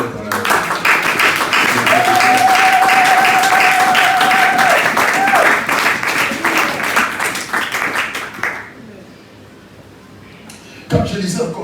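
Church congregation applauding and clapping together in worship, a dense sustained roar with a sung or held tone riding over it, then fading to quieter room noise before a brief burst returns.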